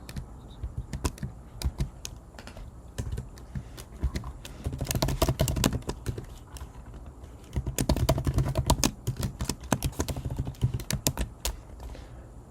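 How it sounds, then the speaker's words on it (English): Fingers type on a computer keyboard while coding, a close run of quick clicking keystrokes in uneven bursts with short pauses and denser flurries midway and later. "So we have to actually type that out"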